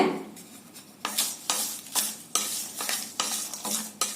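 Garam masala spices, including broken mace, being dry roasted in a pan: about eight rhythmic scraping stir strokes, close and crisp, each a sharp rustling sweep, with no talking.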